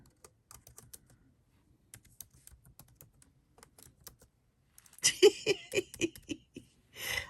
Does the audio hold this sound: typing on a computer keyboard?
yes